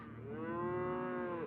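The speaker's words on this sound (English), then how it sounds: "They'd be mooing, vocalizing, trying to let us know that they need some attention." Dairy cattle give a single sustained, resonant moo lasting over a second, loud and close with no other sounds.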